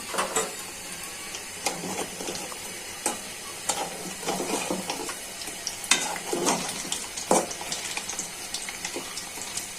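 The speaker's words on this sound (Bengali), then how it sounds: "ভালো করে বড়াটা ভাজা হয়ে যায়। বড়াটা এখন ভাজা হয়ে গেছে, উঠিয়ে নিচ্ছি।" Spinach and red lentil fritters fry in hot oil, giving a steady sizzle broken by repeated sharp scrapes and stirs of a utensil in the pan, along with a little running water, close and fairly loud without any talk.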